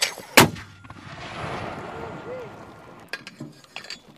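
Marines firing an AT4 or SMAW rocket launcher, one sharp loud blast near the start followed by a rumbling tail, with shouted commands and fainter cracks toward the end.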